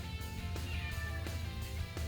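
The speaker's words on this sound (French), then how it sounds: "Il y a Sharkan qui est à l'autre côté de la porte, il arrête pas de crier." A cat meows insistently, the cries muffled and fairly faint, as if heard through a closed door.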